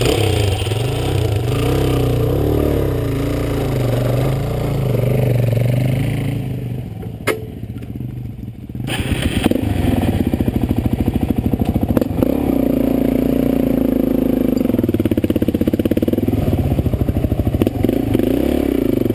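A motorcycle engine runs loudly and close throughout, a steady idle with rough throttle blips, dropping briefly mid-way before picking back up, with a faint voice now and then underneath.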